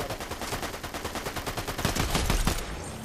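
Sustained rapid gunfire in Fortnite, a steady stream of shots at even pace that grows louder and denser toward the end before cutting off.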